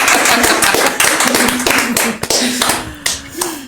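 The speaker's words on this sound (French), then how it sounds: "Ah, bon, on peut les applaudir quand même." A crowd claps in a dense, lively burst of applause that swells and fades slightly over a few seconds, with a voice briefly audible underneath.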